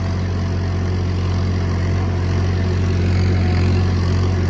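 A steady, heavy engine drone runs without a break, low and constant, from a Massey tractor at close range pulling a 12-disc harrow in second high gear.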